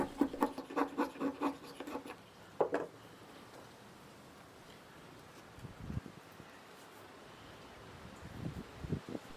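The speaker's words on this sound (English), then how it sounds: "I'll use a chisel to cut the end into a taper" A chisel pares a taper onto the end of a handmade awl in a quick run of rhythmic scraping cuts, then quiet rubbing and a few louder scrapes later on, close and fairly faint.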